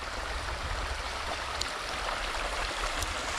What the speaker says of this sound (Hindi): और एक छोटा सा तो झरना है यहाँ से निकलते हुए।